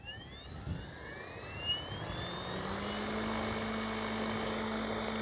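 Tron Gemini RC helicopter rotor spooling up on the bench, a rising whine climbing steadily in pitch over a few seconds and then holding a steady, loud drone, with no talk.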